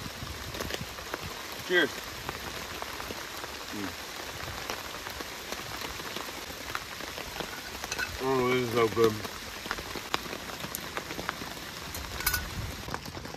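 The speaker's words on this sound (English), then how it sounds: "It's pouring down rain, so I'm not gonna really do much except stay in here." Heavy rain pours steadily on a winter camping shelter, a dense continuous patter throughout, while a person speaks briefly inside.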